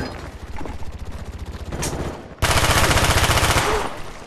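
Rapid automatic gunfire from the video game Call of Duty: Black Ops, loud continuous bursts rattling off in quick rhythm, pausing briefly before a second, stronger volley.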